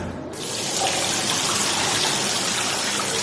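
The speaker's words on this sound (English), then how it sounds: "So I just pop my fingers in front of the tap and the tap will come on." An infrared touchless bath tap turns on and runs, a sudden onset followed by a loud, steady rush of water pouring into the tub, close and continuous, with no voices.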